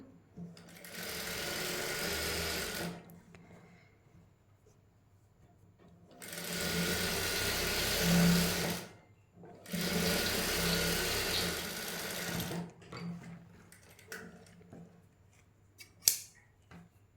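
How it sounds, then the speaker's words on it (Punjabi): A domestic sewing machine stitching a seam on a suit piece, running in three steady bursts of a few seconds each with short pauses between, close and fairly loud, with faint handling noises afterward. "ਇਸ ਸਲਾਈ ਨੂੰ ਵੀ ਹੁਣ ਉੱਪਰੋਂ ਨੱਪ ਦਾਂਗੇ ਜੀ"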